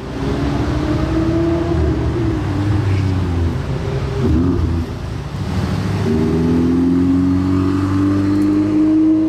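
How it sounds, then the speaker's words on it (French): A Ferrari 812 fitted with a Novitec exhaust revs loudly and close by, its engine note rising and falling in several surges with small exhaust pops and crackles between the revs. "Les petits retours d'échappement, mais pas trop abusés quand même"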